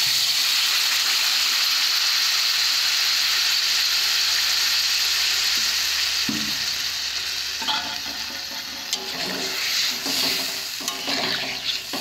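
A vegetable curry with tomato sizzling loudly in a pan, a constant close hiss that dips as water is poured in, followed by stirring scrapes and clinks of a spoon against the pan.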